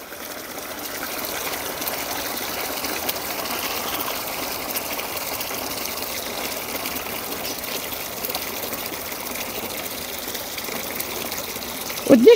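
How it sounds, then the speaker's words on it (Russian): Cool water pours out in a steady, fairly loud gushing stream that runs unbroken throughout, ending in a brief louder splash. "Прохладная водичка."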